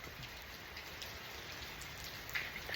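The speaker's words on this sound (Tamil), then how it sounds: "இங்க வந்து ஃபுல்லாவே பயங்கர மழை." Heavy rain falls steadily and continuously at close range, a dense even hiss of drops striking surfaces with no pauses and no voices.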